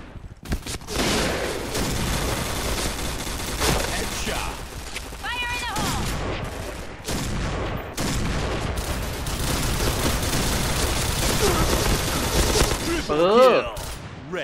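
Famas G2 rifle gunfire in the online shooter Point Blank, dense bursts of shots and game effects running almost nonstop, with brief mechanical sounds between volleys.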